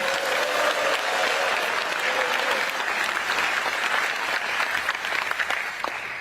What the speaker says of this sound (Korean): 우리 이재명 대통령께 박수 한번 쳐드리면서 시작하면 어떨까요?